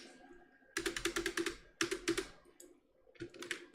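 Two bursts of rapid clicking keystrokes on a computer keyboard, close and clear, with a shorter flurry of taps at the end and quiet gaps between.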